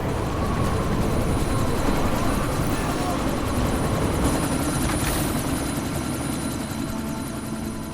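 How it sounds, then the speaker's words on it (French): A helicopter in the video game Deus Ex Mankind Divided gives off a continuous, loud, dense rotor roar that holds steady throughout and dips slightly toward the end. "Mais vous devez à tout prix arrêter cet hélico."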